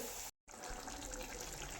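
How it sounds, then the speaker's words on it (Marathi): Water pours into a pan of egg masala curry, a steady gushing stream that stops briefly and then resumes, with no voices. "यामध्ये मी पाणी थोडं ऍड करून घेणार आहे जितकं मला हवं आहे तितकं"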